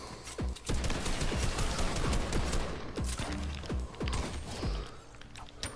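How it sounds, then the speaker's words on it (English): Fortnite gunfire in an arena match, rapid bursts of close sharp shots in quick clusters over several seconds with thuds mixed in. "He's shooting me."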